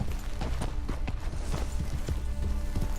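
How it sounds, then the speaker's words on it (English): Several horses trot in Red Dead Redemption 2, their hooves beating a quick, steady clip-clop over continuous ambient rumble, moderately close. "We'll, need our horses."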